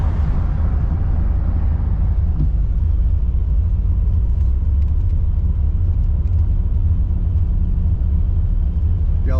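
A car drives through Watkins Glen near Seneca Lake, a steady low road rumble and engine drone from inside the cabin, continuous and fairly loud.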